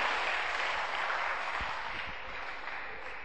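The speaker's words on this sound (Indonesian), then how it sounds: "Oke, tepuk tangan." Faint, distant audience clapping at a seminar on love, sex and dating, a soft continuous patter of hands for a few seconds.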